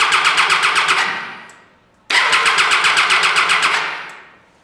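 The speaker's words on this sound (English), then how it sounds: "the engine turns over very, very quickly" A Triumph Tiger 800XC motorcycle engine, powered by a 12-cell lithium battery, cranks rapidly with a fast, even rhythm, stops briefly, then cranks again in a second quick burst that fades out.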